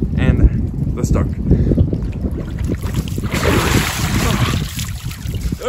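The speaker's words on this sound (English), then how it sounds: "Ugh, it's so windy out." Strong outdoor wind roars and buffets the microphone continuously, a loud, rough rush with gusts swelling midway, while someone talks underneath.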